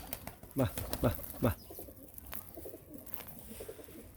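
Pigeons coo three times in a steady rhythm, close and clear, and then only soft ambient noise follows.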